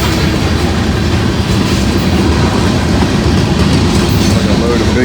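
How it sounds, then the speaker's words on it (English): A train rolls past on the rails near a work zone, steady broadband rumble and rattle of cars at close range, loud and continuous throughout. "At least these trains are moving quicker through here now."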